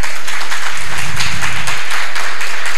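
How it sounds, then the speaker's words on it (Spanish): Loud, dense audience applause after a talk, a continuous wall of clapping that fills the whole stretch with no voices on top. "un fuerte aplauso"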